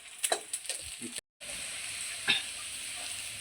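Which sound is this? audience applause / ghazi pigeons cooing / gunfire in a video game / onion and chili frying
onion and chili frying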